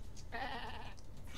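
A sheep in the video game Bierzerkers lets out a single short, nasal bleat, close and clear over a faint background hum.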